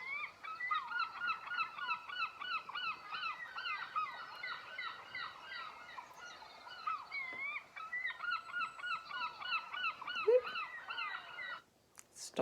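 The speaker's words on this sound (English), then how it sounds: "Stop my noisy seagull sounds." A played sound effect of gull calls gives a dense flock of honking, squawking cries in a steady, repeated chorus at moderate volume, with no talk over it.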